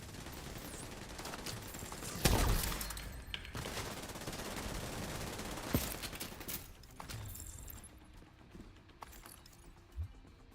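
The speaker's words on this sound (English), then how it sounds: "Shoot that out already as well." Gunfire in a PvE shooter video game: crackling bursts of shots, with a sharp heavy blast early on and another mid-way, then lighter scattered shots trailing off. No talking.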